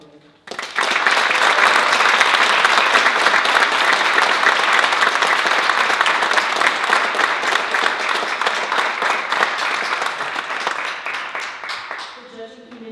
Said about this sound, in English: Please join me in applauding Aiden for being nominated in the STEM category.